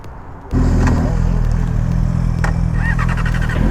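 A Yamaha R6 sport bike ridden at night suddenly jumps to a loud, close, steady engine drone with a low rumble and wind roar that holds to the end.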